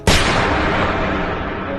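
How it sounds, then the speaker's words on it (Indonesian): A single loud gunshot with a sharp attack, followed by a long booming echo that slowly fades away. "terdengar suara tembakan"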